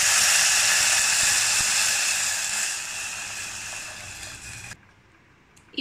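Tamarind extract poured into a hot pan for vendhayam rasam, a loud close sizzle and hiss that fades gradually and then cuts off sharply, with a brief clink at the end.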